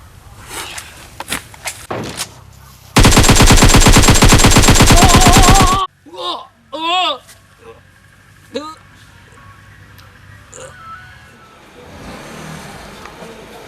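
Scattered single gunshots crack in a staged battle scene, then a loud sustained burst of machine-gun fire lasts about three seconds, followed by a few more sharp bangs and quieter rumbling.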